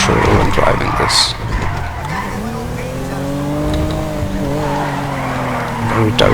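A car in GTA V with a handling mod, engine note rising and falling as the tires squeal and skid through turns, close and loud with someone talking over it.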